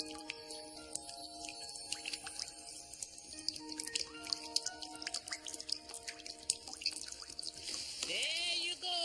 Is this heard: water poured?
yes